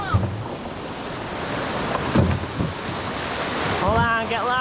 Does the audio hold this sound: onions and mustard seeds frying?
no